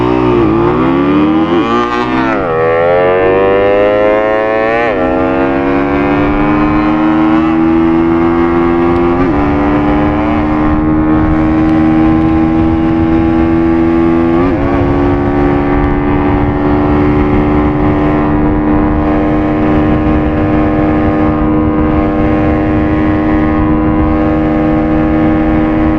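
A Suzuki Raider F.I and a Rusi Macho 125 motorcycle race each other, their engines revving loud and close, rising steadily in pitch through repeated gear changes for the whole stretch.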